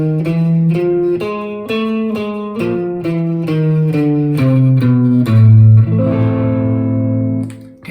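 Electric guitar plays a Latin blues scale as a descending run of about ten evenly spaced, clear single notes, ending on a longer sustained low note, alone and close.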